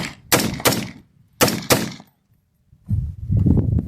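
A BCA-10 gun emptying its magazine in two quick pairs of loud, close shots with short echoing tails, followed by a silent gap and then rustling handling noise.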